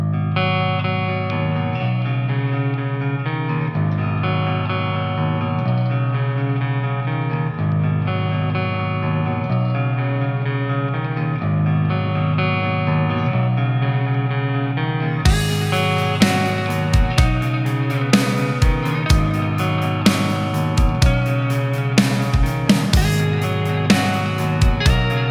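Clean-tone electric guitar through a Mercuriall U530 amp simulator plays chiming, effected chords and arpeggios with chorus and reverb, joined halfway by a backing drum beat, no talking.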